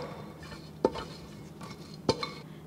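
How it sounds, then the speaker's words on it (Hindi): Ghee being spread around the inside of a pressure cooker: two sharp metallic clinks of a spoon against the pot with faint scraping between them, close and quiet, no talking. "घी चारों तरफ से हम इसमें ग्रीस कर देंगे।"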